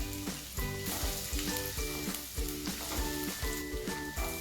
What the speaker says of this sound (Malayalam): ഇതിലേക്ക് ആദ്യമായിട്ട് വെളുത്തുള്ളി ഇട്ട് കൊടുക്കാം.